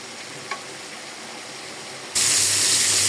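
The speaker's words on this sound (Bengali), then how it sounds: "আমি কিন্তু কড়াই বসাই দিলাম আর তেলে দিয়ে দিলাম নোনা ইলিশ।" Salted hilsa fish goes into hot oil in a wok. After a couple of quiet seconds a sudden, loud, close sizzle bursts out and holds steady.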